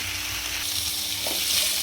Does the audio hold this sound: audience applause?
no